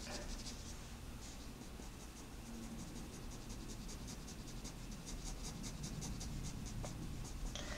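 HB pencil scratching steadily across paper while shading a drawing of an eye, a continuous soft grainy rasp with faint rhythmic strokes throughout.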